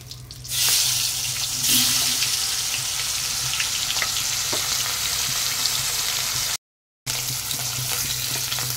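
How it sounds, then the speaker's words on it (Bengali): Fish frying in hot oil for a mango fish sour curry, a steady dense sizzle that runs nearly throughout with occasional soft clinks and stirring, no talk, with a brief dropout near the end. "তো মাছগুলি ভাজা হয়ে গেছে, হালকা করে তুলে নিচ্ছি। বাকি মাছগুলো ভেজে নেব।"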